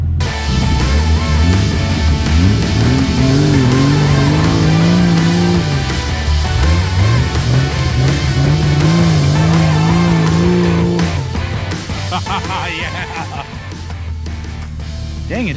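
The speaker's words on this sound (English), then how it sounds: "Time for burnouts." A vehicle on a trail revs hard with rising and falling engine pitch through repeated burnout pulls, loud and close, then eases off as other noise takes over near the end.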